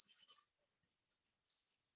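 Crickets and other insects chirp at night in two short bursts of high, rapid trills separated by near silence, faint and close, with no voices.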